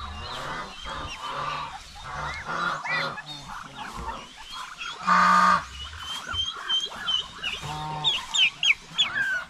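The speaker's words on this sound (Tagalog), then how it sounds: "Yung mga pabo, oh. May mga lalaki tayong pabo dito" Male turkeys kept in a backyard coop call in repeated honking, gobbling bursts, some close and loud, others farther off, with intermittent rustling around them.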